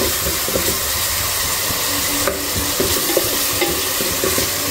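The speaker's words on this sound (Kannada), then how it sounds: "ಚೆನ್ನಾಗಿ ಅಷ್ಟು ಸೇರಿದು ಚೆನ್ನಾಗಿ ಫ್ರೈ ಮಾಡೋಣ." A fenugreek dal mixture with tomato frying in a pan, loud close sizzling and hissing under continual stirring and scraping of a spoon against the vessel, with no one speaking.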